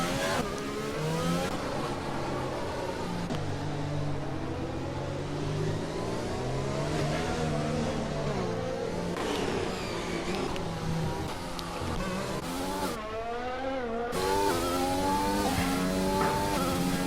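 F1 race cars in the video game F1 2020 at the Azerbaijan round, engines revving and shifting through rising and falling whines for a long stretch, loud and close, with a car pulling out of the pits on hard tires.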